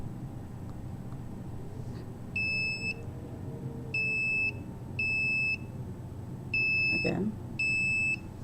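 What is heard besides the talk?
smoke detector beeping, triggered near a cell phone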